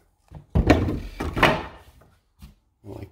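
A wooden bar is dropped and slid across a studio door, giving two heavy scraping thuds close by followed by softer knocks and a faint rattle as it settles.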